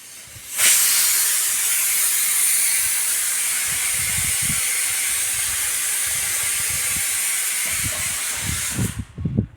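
A household pressure cooker in an Indian kitchen hisses steam in a long loud continuous blast, with rattling knocks beneath, cutting off abruptly at the end.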